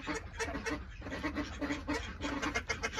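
Harlequin ducks kept with other fowl on a small farm, giving repeated short quacks and honking calls that overlap in a busy, fairly close chorus with no talk.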